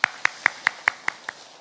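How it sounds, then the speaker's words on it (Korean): Clapping for the lawyer at a housing association's general meeting: seven crisp, evenly spaced claps in a steady rhythm, close and distinct against a quiet room with no talk. "박수 한번 부탁드리겠습니다."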